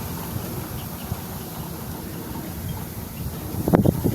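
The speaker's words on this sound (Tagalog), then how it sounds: "Kaso nga lang malakas yung hangin." Strong wind buffets the microphone by a lakeside fishing spot, a steady rumbling gust throughout, with a brief louder knock near the end.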